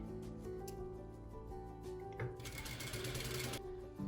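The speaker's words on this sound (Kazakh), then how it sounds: "Осылай түзу тігіспен тігіп шығасыздар." A sewing machine stitches a straight seam on a chapan, the traditional quilted Kazakh robe, with a mechanical whirr that runs in short bursts and then a louder, steady run of stitching near the end.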